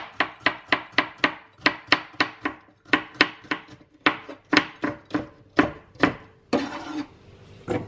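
Ampalaya, a bitter gourd, being sliced with a sharp knife on a cutting board: a quick, steady run of crisp chops close up, with a few scraping strokes toward the end.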